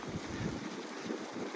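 Gusts of winter wind rumble and buffet against the microphone while cycling through snowy, slushy streets in Toronto, a low, uneven blustering that swells and fades.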